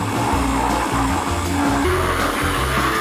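An electric mixer whirs while blending cream and strawberries for ice cream, a loud, steady motor drone with shifting pitch as the blades work through the mixture.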